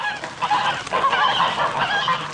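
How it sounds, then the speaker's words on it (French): A flock of geese feeding in a farmyard courtyard honks and cackles loudly and continuously up close, their overlapping calls heard alone as a sound effect. "en regardant les oies qui étaient en train de manger dans un coin de la cour"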